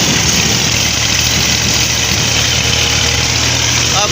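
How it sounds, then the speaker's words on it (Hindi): A tractor engine drones steadily while driving on a village road in hot June weather, a loud, close, unbroken rumble with wind-like hiss and no pauses. "ट्रैक्टर की ड्राइविंग बहुत मुश्किल होती है"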